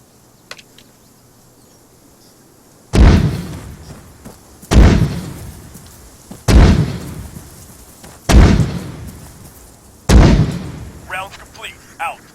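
Called-in artillery shells strike in the video game Arma 3: five heavy, booming explosions land a couple of seconds apart, each with a rumbling tail, loud and close, with faint radio chatter near the end.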